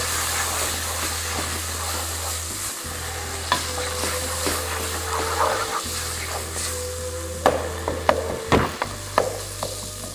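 Garlic and ginger frying for a chicken coconut curry, a steady close sizzle with a low hum, broken by spatula scrapes and sharper clacks against the pan, growing busier toward the end.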